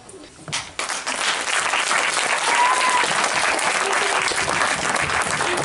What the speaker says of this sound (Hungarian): Nyilván megérdemli a tapsot